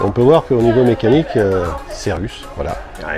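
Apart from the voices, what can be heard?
No distinct noise like a dog, phone or traffic.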